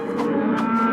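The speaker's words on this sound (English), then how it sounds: "The cows are just upset because the farmer hasn't been in to milk them yet." Several farm cows low loudly in overlapping moos, a herd of a dozen waiting to be milked, close and insistent over a steady barn background with no talking.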